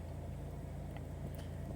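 A Chevrolet Onix engine with a fault gives a low, steady, faintly pulsing thrum just after starting, like a distant helicopter, quiet and alone.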